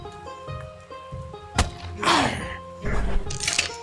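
Axe blows in the video game Above Snakes, with a sharp thunk followed by heavier thuds and a shattering crash, set against a steady musical background.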